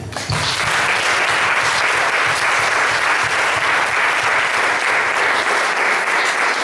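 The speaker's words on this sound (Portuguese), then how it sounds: "Vamos bater palma aqui." A church congregation at an Easter service claps together, a loud, dense, sustained roar of many hands that starts abruptly and holds steady for several seconds without talk.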